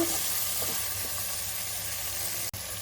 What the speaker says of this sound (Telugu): ఈ ఉప్పు అయితే కలిసేటట్టు మొత్తం వెజిటేబుల్స్ అన్నీ ఒకసారి కలుపుకుంటున్నాను.